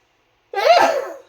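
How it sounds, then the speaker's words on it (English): After a moment of silence, a single loud, close sneeze bursts out and trails off quickly. "Excuse my sneeze."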